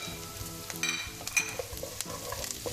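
Urad dal and onions tossed in a frying pan, sizzling oil with quick scraping and rattling as the pan is shaken, close and moderately loud, no talking.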